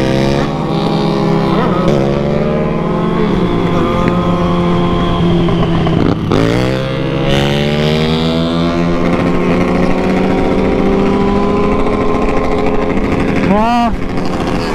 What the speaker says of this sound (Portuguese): Essa moto é muito forte